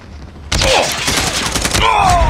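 Rapid gunfire from a Call of Duty multiplayer match bursts in abruptly and rattles on loudly for about two seconds, with a player's voice briefly under the shots.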